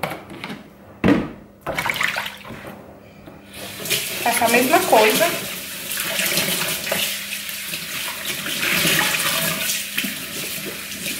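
Lukewarm water runs from a home tap into a basin used for soaking cleaning cloths, a steady rushing splash that starts after a few seconds and continues throughout, with brief speech near the start.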